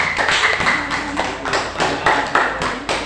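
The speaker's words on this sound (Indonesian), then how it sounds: "Kita beri aplaus dulu untuk kelompok 2" A small classroom group claps in applause for group 2, giving a dense, rhythmic burst of close, fairly loud claps that runs throughout.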